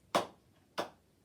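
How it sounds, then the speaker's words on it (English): Two crisp hand claps, about half a second apart, are played as steady rhythm beats in a music lesson. They are close and clear, each one decaying quickly into near silence. "So if I were to clap that"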